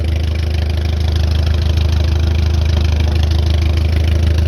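A Case VAC tractor engine idles after a cold start, a steady, loud, low rumbling chug that holds even throughout, up close and with no voices.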